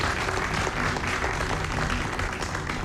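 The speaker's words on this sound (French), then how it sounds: "je voudrais juste demander au public d'applaudir encore une fois Harry." Steady, dense applause from a large audience fills the whole stretch, loud and continuous without pause.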